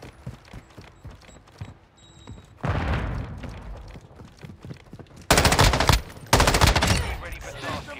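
Bursts of M13B rifle fire in a shooter video game, rapid automatic volleys with the loudest bursts near the end, mixed with other battle noise.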